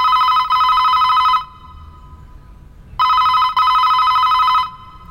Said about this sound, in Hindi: फोन नहीं उठा रहा है